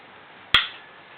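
Two tuning forks struck together on a rubber pad give one sharp, bright ring that decays over a fraction of a second against a quiet background.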